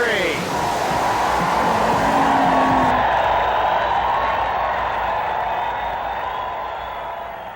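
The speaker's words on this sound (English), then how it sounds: "a 4-wheel drive funny car. Ivo getting ready to go on the starting line, pulling up carefully, getting ready to drive away, burning rubber into drag racing history" At a 1980s drag race start, a four-wheel-drive funny car burns rubber: a loud, sustained roaring engine and tire scream that holds steady, then slowly fades, with a narrator talking over it.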